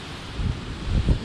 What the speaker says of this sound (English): Really windy on this side.